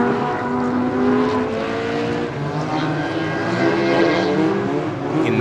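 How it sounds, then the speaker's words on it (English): Hot rod stock cars race around an oval track, several engines droning and rising in pitch as they pass at mid distance, layered continuously for several seconds with no voices. "So we've got the hot rods out there at the moment."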